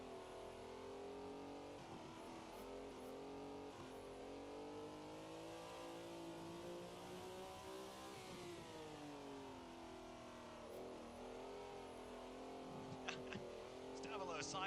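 Ferrari 330 P4 racing car in the Assetto Corsa driving game, its engine droning steadily with rising and falling revs through corners, a continuous mid-pitched roar at modest volume with faint tyre noise.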